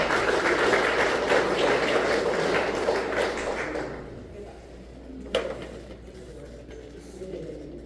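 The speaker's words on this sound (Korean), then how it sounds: "꼭 박수 부탁드리겠습니다." An audience applauds a lecturer as he takes the podium at a history lecture in Haenam, with dense clapping for about four seconds before it dies away. A single knock follows in a quiet room.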